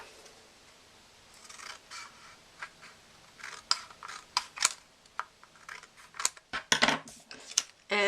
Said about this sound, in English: And just using my scissors, I'm going to trim this off.